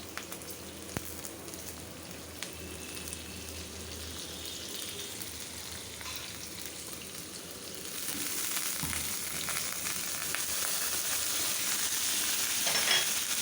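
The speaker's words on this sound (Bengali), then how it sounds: "এখন একটু কষিয়ে নিই মশলাটা" Ginger, garlic, turmeric, chili and coriander spice paste fries steadily in a pan, a continuous close sizzle that grows louder and brighter in the second half, with no talking.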